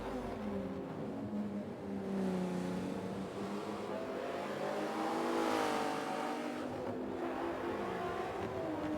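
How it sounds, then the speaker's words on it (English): A Porsche GT race car engine, not running flat out, drones past in the Exotic GT class, the rising and falling harmonic note steady and fairly loud with no voices over it. "you can definitely hear that Porsche's not flat out"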